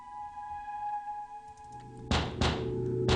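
Fists pound on a basement door in a horror radio drama, heard as three heavy, booming thuds in quick succession over a faint tonal background hum.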